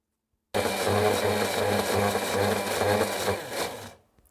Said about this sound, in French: je vais ajouter la fin des graines de tournesol et des fans de radis pour terminer de mixer